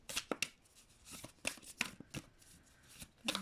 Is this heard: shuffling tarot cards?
yes